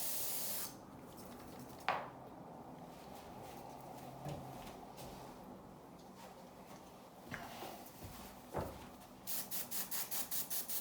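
Cleaner is sprayed onto disassembled CZ 455 rifle parts in a few short hissing bursts, with faint handling clicks and taps in between, then a quick run of rapid ticking clicks at the end, all fairly quiet and with no talk.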